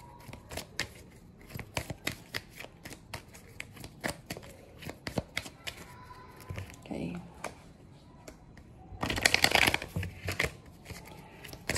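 Oracle cards shuffle in rapid riffling, flicking strokes throughout, with a louder burst of handling near the end, while someone speaks quietly over them.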